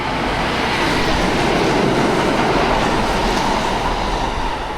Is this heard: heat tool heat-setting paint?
no